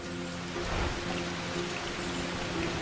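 Steady overnight rain pours down around an island village house, a dense even hiss with a faint low hum underneath, continuous for the whole stretch.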